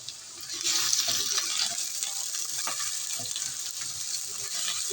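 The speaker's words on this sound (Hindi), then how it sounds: "इनको लाइट ब्राउन होने तक हमने फ्राई करना है।" Onions sizzle and fry in hot oil in a kadai, a steady broadband crackle that runs the whole time, with occasional stirring sounds close by.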